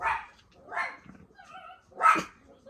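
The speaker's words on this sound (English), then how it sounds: "Alright, what are they barking at?" A dog barks three times at a slow, uneven pace, fairly close, with a faint whine between the barks.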